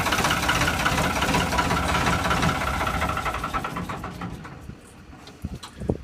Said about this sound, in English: we'll probably shut the engine off now because it's getting very loud